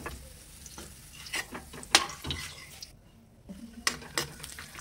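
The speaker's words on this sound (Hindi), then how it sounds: "इसमें हम चिरौंजी भी भून लेंगे" Chironji seeds are fried in hot oil left over from frying gujiya. The oil sizzles softly while a spoon scrapes and clinks in bursts, with a brief quiet pause partway through.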